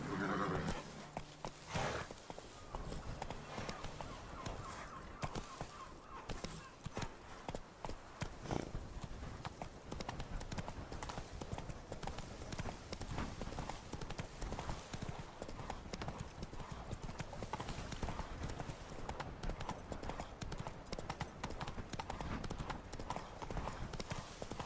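Roach, the horse in The Witcher 3, gallops with dense, rapid hoofbeats that go on steadily. A short whinny comes near the start, and the sound is moderately loud and close.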